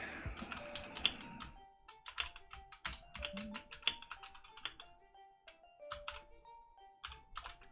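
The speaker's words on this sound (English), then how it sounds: "I'm just typing all the details." Rapid irregular keystrokes on a computer keyboard, close and fairly quiet, in bursts with short pauses, over a faint steady tone in the background.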